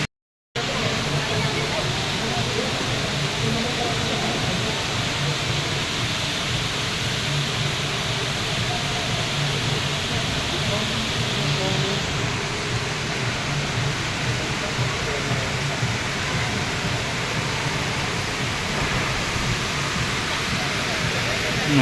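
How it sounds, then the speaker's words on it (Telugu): An indoor artificial waterfall inside Dubai Mall, the world's largest shopping mall, pours with a steady, loud, unbroken rush of falling water that holds constant from start to finish. "ఇదేంటి వాటర్ ఫాల్స్ వచ్చేసాం వాటర్ ఫాల్స్కి."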